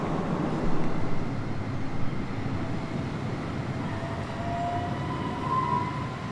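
A steady rumble of a moving train heard from inside, with rattling wheels and a faint high squeal of the rails.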